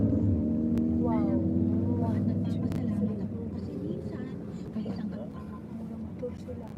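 Motor vehicles, apparently motorcycles, rumble past on a road in a steady, fairly loud wash of engine noise that eases slightly midway, with people talking casually over it.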